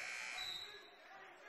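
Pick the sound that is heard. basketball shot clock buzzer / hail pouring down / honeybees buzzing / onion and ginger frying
basketball shot clock buzzer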